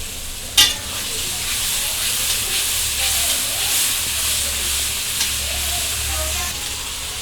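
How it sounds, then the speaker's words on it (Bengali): Onions and a bay leaf fry in oil in a wok, giving a steady, soft sizzle and hiss with a couple of brief clinks of stirring. "এবার একটু একটু ভাজা ভাজা হয়ে যাবে"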